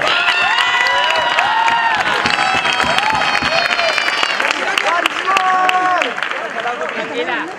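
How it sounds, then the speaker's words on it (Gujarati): Large crowd clapping and cheering at a Sharad Purnima festival gathering at Vadtal Dham temple, loud and sustained, with shouting voices layered over the applause throughout. "એવી તાળીઓ પાડો, એવી તાળીઓ પાડો"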